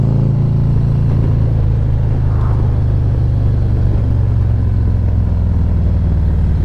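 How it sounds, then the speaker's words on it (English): A Harley-Davidson CVO Street Glide motorcycle rumbles steadily through engine braking, its deep low throb continuous and close under steady road and wind noise, with no voices. "Wow, the engine braking is fantastic."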